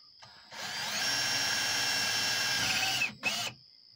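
A power drill whines steadily for a few seconds, boring through the primer end of a spent brass cartridge case into a .223 case, then stops briefly and gives one more short burst.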